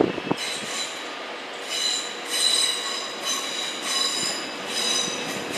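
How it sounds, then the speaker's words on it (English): Virgin Pendolino class 390 electric train moving at London Euston station, with squealing wheels and a steady rail rumble that swells and fades in waves, heard at moderate distance with no talk. "there goes 390-009 with the 1107 Virgin Pendolino service to Liverpool Lime Street."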